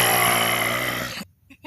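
A voice imitates Jeffy's grunting: one short, rough, buzzing grunt held for about a second, ending abruptly, then a brief breathy tail.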